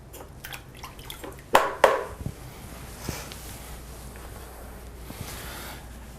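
Water rinsing leftover plaster off a freshly cast silver piece, with a couple of brief splashy bursts early on, then a low steady trickle and faint drips.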